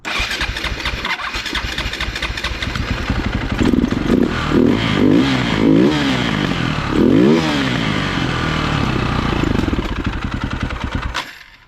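An old motorcycle engine that needs carburetor work catches, sputters and revs unevenly, then settles into a loud, rough running clatter before shutting off near the end. It sounds close by, with no talking.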